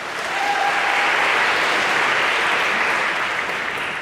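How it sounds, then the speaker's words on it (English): A lecture hall audience at a computer science class breaks into applause, a loud, dense, sustained wash of clapping throughout with no speech on top. "I feel Carter's waiting for applause"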